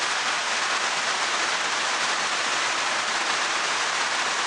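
Heavy rain pours down steadily out in the open near a parked truck, a dense, even hiss with no letup and no voices for several seconds.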